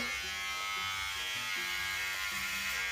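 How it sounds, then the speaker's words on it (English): An electric shaver runs continuously while shaving the side of the head, a steady close buzzing hum that shifts slightly in pitch as the blades press against the hair, with no speech over it. "let's get on with this shave. Okay, so turning it on"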